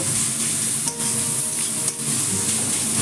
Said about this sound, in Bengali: গ্যাসটাকে আমি মিডিয়াম ফ্লেমে রেখে রেখে এটাকে ভালো করে ভেজে নেব